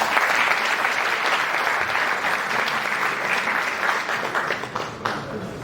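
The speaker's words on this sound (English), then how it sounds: "Let's give them all a round of applause." A crowd at a Crown Heights brunch gives a round of applause, with steady and dense clapping at moderate volume that thins out toward the end.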